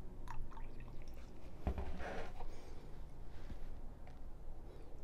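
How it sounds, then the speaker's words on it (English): Water sloshes and trickles as a bottle is rinsed at a sink during coffee water preparation, faint splashes and drips with a brief louder pour in the middle. "I'm just gonna rinse it here one more time."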